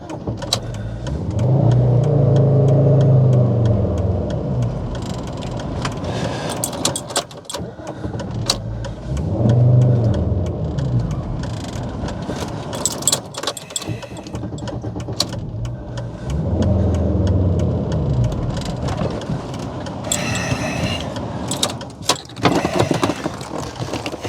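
A car with a VR5 engine, front brakes stuck on, being moved off the road: engine revving in three rising surges with mechanical knocks and clunks between them, close by.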